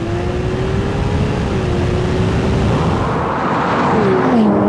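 A Ferrari 296 GTB accelerates hard in a drag race against a 488 Pista, with a loud, steady engine roar whose pitch climbs and shifts. There is no talking over it.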